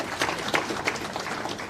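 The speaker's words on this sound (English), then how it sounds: "Can we clap hands for the presentations that we have received?" Scattered applause from a meeting audience at an ANC address in KwaZulu-Natal. It is a brief, moderately loud patter of hand claps with uneven, overlapping hits and no voices.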